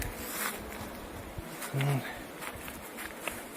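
Honey bees fly around hives at an outdoor apiary while someone talks nearby, their faint buzzing hum blending with breeze and brief rustling.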